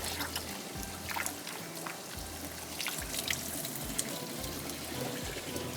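Water runs steadily from a kitchen tap while seafood is rinsed in the sink, a continuous splashing stream with small dips and surges as the food is moved under it.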